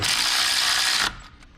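A ratchet wrench tightening water pump bolts on a 1988 Ford Ranger 2.9L, a loud continuous rapid clicking for about a second that stops abruptly, followed by a few faint knocks.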